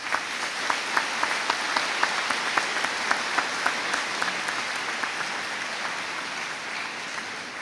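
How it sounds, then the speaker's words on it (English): The audience at an eighth grade school promotion ceremony applauds steadily, with sustained crowd clapping from a large room where a few sharper claps stand out at the start and the sound slowly fades toward the end. "the students and I say thank you with a round of applause"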